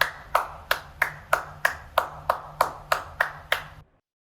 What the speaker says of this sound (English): And finally we'll have clapping as well.